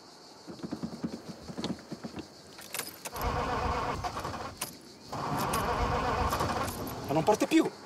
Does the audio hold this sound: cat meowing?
no